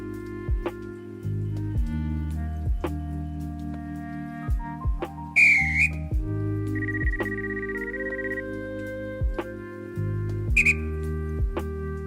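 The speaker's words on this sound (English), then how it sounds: "instead of blowing a final whistle to allow the driver to depart" A short, sharp train dispatcher's whistle blast in a video game sounds twice, about five seconds apart, over steady electronic tones and a low rumbling engine drone.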